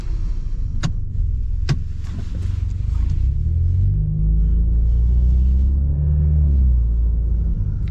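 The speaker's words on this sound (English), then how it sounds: "There's a car behind me that I want to let pass." A car's low engine rumble swells and passes close by, steady and loud throughout, with a couple of sharp clicks early on.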